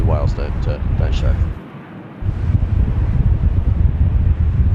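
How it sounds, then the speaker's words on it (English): Strong wind buffets an outdoor microphone at Sydney Airport during windy runway 25 operations, a loud steady low rumble that drops briefly mid-clip and returns, with a voice talking over it at the start. "It's so windy."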